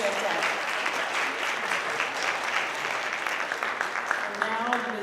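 A crowd at a school board meeting applauds an elementary school chorus with dense, steady clapping that stays loud and even throughout, with no pauses.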